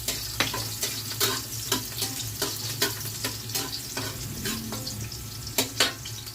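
Garlic frying in a pan for a Filipino anchovy soup, with a steady close sizzle and periodic scraping stirs, no voices.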